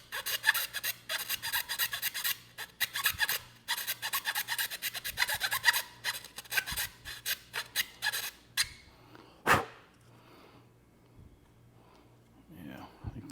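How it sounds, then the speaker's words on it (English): Filing burrs from holes in C8 Corvette carbon fiber grill trim: quick rhythmic rasping strokes in close bursts, then a few scrapes and a knock, with a voice talking briefly near the end. "So I'm just going to burr those off and clean these holes up real quick."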